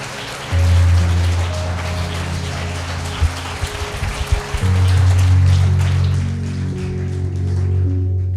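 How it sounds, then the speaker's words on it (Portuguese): A church congregation applauds loudly, a dense, rain-like roar of many hands that swells in, dips briefly midway, then surges again over a low sustained musical hum. "Você pode dizer amém e aplaudir o mais forte que você puder ao Senhor."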